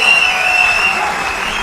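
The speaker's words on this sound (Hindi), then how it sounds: "जोरदार तालियां होनी चाहिए" Steady, dense applause from a crowd, loud and continuous throughout, with no pauses.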